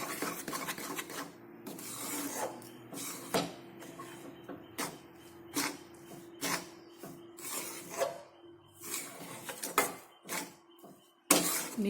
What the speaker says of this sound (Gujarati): બધું જ બરાબર મિક્સ કરી લઈશું।